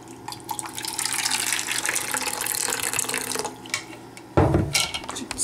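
Hot water streams from a black steel thermos made in 1989, a steady splashing pour that stops briefly, then resumes with a louder, closer gush.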